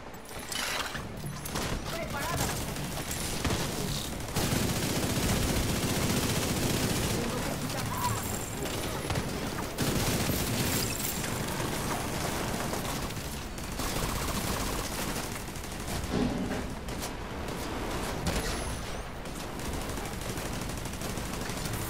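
Sustained automatic fire from a deployed turret in The Division 2 runs steadily through the whole stretch, with steady overlapping shots and game effects and a voice speaking occasionally over it.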